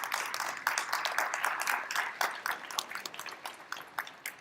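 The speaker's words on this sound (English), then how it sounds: "parents deserve a round of applause" Graduation audience applauding the parents at a high school ceremony, a steady patter of many hands clapping throughout, moderately loud and fairly close.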